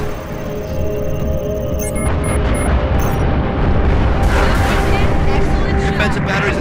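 Missile strikes and explosions roar through a Halo Reach space battle, loud booms and bursts piling into a dense continuous rumble with sharper blasts around the midpoint and late, while radio chatter runs underneath.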